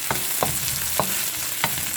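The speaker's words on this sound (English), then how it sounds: "So maybe saute that for 30 seconds or more, a little bit more." Chopped garlic sautéing in a pan for chicken pancit guisado, a steady close sizzle broken by four or five sharp spatula scrapes at an uneven rhythm, no voices.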